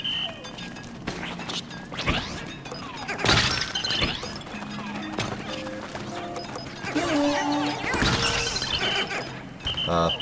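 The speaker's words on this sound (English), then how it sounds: "Even though my rock Pikmin got smashed, they didn't die." Rock Pikmin getting smashed in Pikmin 4: sharp, loud shattering crashes mixed with busy game effects, chirps and croaky creature noises, with no speech.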